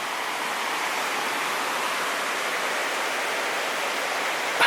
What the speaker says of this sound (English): just trained down there on that little waterfall bit there